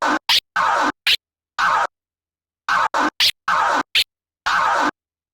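A DJ scratches a record on a turntable platter, cutting it into two quick clusters of sharp, close scratch strokes separated by a short pause, loud and alone.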